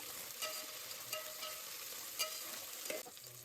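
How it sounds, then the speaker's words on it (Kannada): Coriander leaves and spices frying in a pan, a soft continuous sizzle with occasional light scrapes and taps of a stirring spoon, close by and quiet. "ಅದನ್ನೆಲ್ಲ ಸ್ವಲ್ಪ ನೀಟಾಗಿ ಫ್ರೈ ಮಾಡ್ಕೊಳ್ಳಿ ಕೊತ್ತಂಬರಿ ಸೊಪ್ಪೆಲ್ಲ ಬಾಡ್ ಬಾಡಬೇಕು"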